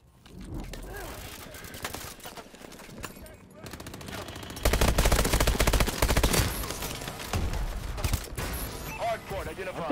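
Gunfire in the shooter game Call of Duty: Advanced Warfare, with rapid bursts of automatic shots that grow denser and louder midway into sustained close fire, some quieter gaps between volleys.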